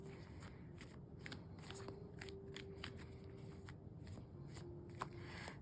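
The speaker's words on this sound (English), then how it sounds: "So I'm just going to shuffle the cards real quick." Tarot cards are shuffled by hand in a quiet room, a quick run of soft crisp riffles and flicks repeating at a steady pace, close and faint.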